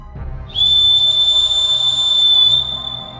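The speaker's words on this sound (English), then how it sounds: "The sound of the whistle had so fascinated him that he could not help trying it once more" A shrill, steady whistle blown loudly and held for about two seconds, cutting off abruptly, with faint background noise before and after.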